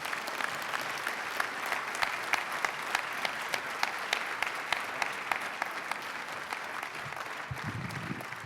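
Audience applause at an education leadership award gala, sustained even clapping from a sizeable crowd filling the room, with a brief low voice near the end.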